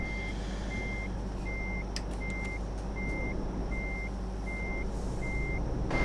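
A truck in Euro Truck Simulator 2 fitted with a 720 horsepower engine, its deep steady drone running throughout while a reversing alarm beeps at a regular pace over it, with a brief hiss partway through.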